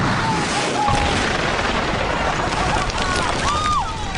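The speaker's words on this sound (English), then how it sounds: "It's gonna propel this sled 750 feet down the track going 500 miles an hour." Rocket-propelled sled loaded with twelve rockets launching down a 750-foot track, a loud continuous roaring rush with a booming onset and a sustained hiss, heard close and unbroken.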